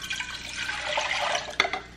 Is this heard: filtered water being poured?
yes